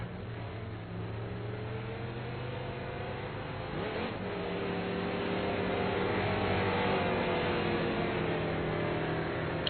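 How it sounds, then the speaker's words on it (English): A race car on the South Boston track during a Pro Series event: a steady engine drone that builds as it accelerates, with rising and shifting revs, fairly close and growing slightly louder, no talk. "Glenn Cray will be the next car."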